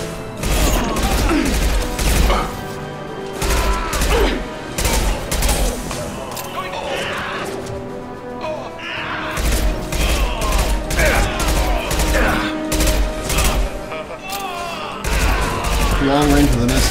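SMG fire in the shooter Mass Effect 2 on PC comes in loud, rapid bursts of gunshots with crashing impacts and game effects, broken by short gaps and mixed with in-game voices.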